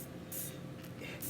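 Short hissing spray bursts of water misted onto stretch denim fabric before ironing, two or three quick puffs close by over a low background hum.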